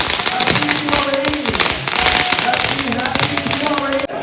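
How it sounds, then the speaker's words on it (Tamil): Diwali firecrackers burst in rapid, crackling succession, dense sharp pops rattling on throughout while voices carry on underneath. "இப்போ நம்ம பட்டாசு வெடிக்க போறோம்"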